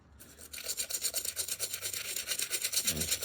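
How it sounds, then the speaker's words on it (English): Stiff brush scrubbing the mesh upper of an Air Jordan 11 sneaker with cleaning formula, a steady rhythmic rasping back-and-forth of fast strokes, close and loud throughout. "scrub away the tough stains, gum and all that kind of stuff"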